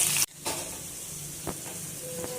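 Green tandoori chicken pieces sizzle in a pan as the lid comes off, a sharp clatter giving way to steady frying hiss with a few soft stirring taps.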